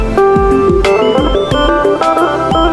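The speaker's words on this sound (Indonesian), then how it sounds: "contohnya itu seperti Kocapi, bunyinya seperti ini." A Karo traditional kecapi (kocapi) lute plays a bright plucked melody, quick repeated string notes over low thumping bass accents, close and loud, with no voices.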